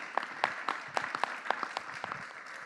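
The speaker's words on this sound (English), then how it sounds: "give them a round of applause" A small conference audience claps for the speakers at a theme park attraction session, with scattered individual hand claps in an uneven rhythm, close and thin, with no talking.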